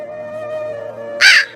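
A cartoon crow lets out a single harsh, loud caw near the end, following a sustained tonal hum.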